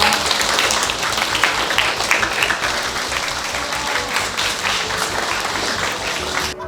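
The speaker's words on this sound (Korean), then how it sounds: "큰 박수 부탁드립니다." An audience at a Korean community ceremony for the Sihwa Lake eco challenge school applauds loudly and steadily, a dense wash of many hands clapping together without a pause.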